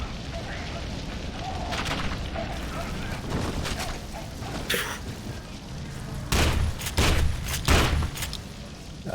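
Incendiary grenades go off in the first-person shooter F.E.A.R. 2, giving a few sharp bursts and booms. A cluster of loud blasts comes near the end, over a steady rumbling game backdrop, and a player talks at times.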